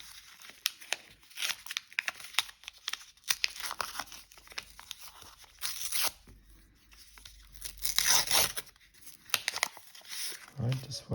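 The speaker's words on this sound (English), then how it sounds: "Gotta be really careful here with the knife" Paper packaging around a Magic: The Gathering card collection being slit open with a knife, giving a run of close, crisp tearing and crinkling rasps in irregular bursts, with a voice speaking at times.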